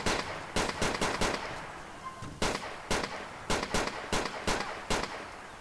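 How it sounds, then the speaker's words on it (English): Gunfire in the game GTA IV, heard as sharp, loud shots in quick bursts and single cracks spread irregularly across several seconds, close and without talking. "Shots fired."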